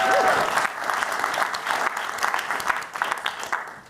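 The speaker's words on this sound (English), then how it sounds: "So a round of applause for them," An audience at a startup accelerator demo day gives a round of applause for the pitches, dense sustained clapping that starts strong and gradually thins out.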